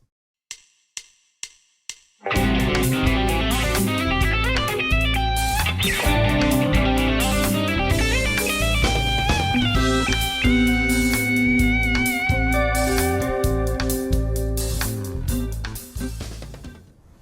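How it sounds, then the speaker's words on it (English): Four sharp ticks count in, then a fast distorted electric guitar minor pentatonic lick with gliding slides plays over a full backing track of drums and bass. "This one is a minor pentatonic lick with some really cool slides in it."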